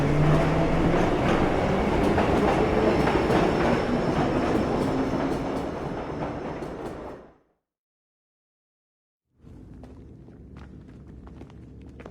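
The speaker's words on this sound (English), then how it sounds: "head for the metro. I'll hold the train for you." A metro train in the video game Assassin's Creed III rumbles loudly with rolling clatter, fading out into a sudden gap of silence before a quieter rattling resumes.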